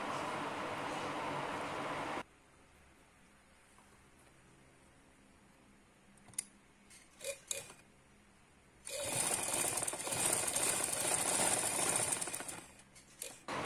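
A sewing machine stitches elastic onto a fitted bed sheet, with a steady loud whir at the start, then quiet with a few clicks and handling noises, then another long, dense run of stitching.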